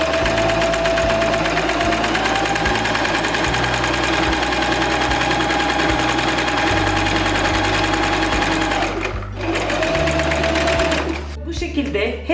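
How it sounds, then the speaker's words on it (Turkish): A sewing machine runs with its pedal pressed, stitching on paper, giving a loud, steady rapid mechanical chatter that continues almost unbroken while a person speaks over it. "Ve sonra pedalımızı basıp dikiyoruz."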